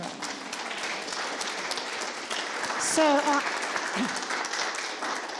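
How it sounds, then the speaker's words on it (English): Audience applause at a documentary screening panel event, a steady patter of many hands clapping throughout, with a brief spoken word over it. "A round of applause."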